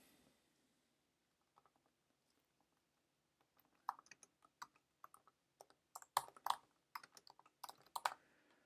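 Soft keystrokes on a computer keyboard. After a near-silent start, a few isolated taps lead into a quicker burst of close, crisp typing.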